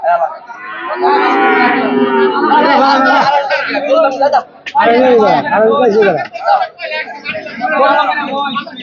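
A cow at the Aricha cattle market gives several loud, close moos over busy crowd chatter, while people talk nearby throughout.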